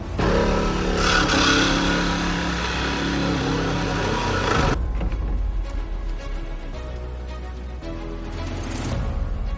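A Honda Ridgeline fitted with a Squarebody truck body runs with its engine idling loudly and steadily nearby; the tone drops halfway through, and the engine settles into a lower, rougher rumble with mechanical rattles.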